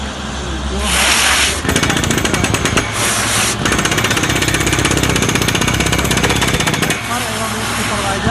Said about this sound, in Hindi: ड्रिलिंग के लिए हमेशा हम लोग वेट ड्रिलिंग का ही इस्तेमाल करते हैं ताकि डस्ट पे कंट्रोल हो